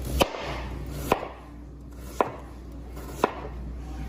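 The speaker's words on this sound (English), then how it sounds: "just about finished slicing up the sweet potatoes" A knife slices through sweet potatoes on a cutting board, giving four sharp, evenly spaced chops about a second apart. The kitchen is otherwise quiet.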